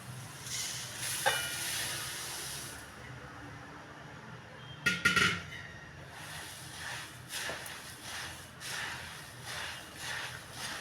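Puffed rice tipped into a hot tempering of green chilli and garlic in a pan for bhadang, a sharp rattling hiss around five seconds, then softer scraping and sizzle as it is stirred.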